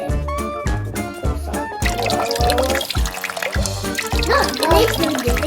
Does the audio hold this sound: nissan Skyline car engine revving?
no